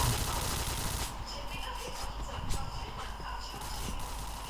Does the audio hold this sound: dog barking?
no